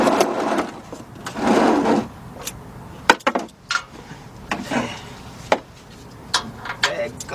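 Pliers working loose a drain tube on a 2010 Ford Explorer 4.0 around the water outlet and thermostat housing, irregular scraping, clicks and sharp knocks close by with faint background noise.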